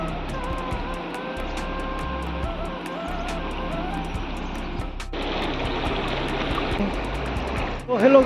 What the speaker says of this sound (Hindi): अभी मैं कुमे नदी में हूँ, आप देख सकते हैं मेरा पीछे ये है कुमे नदी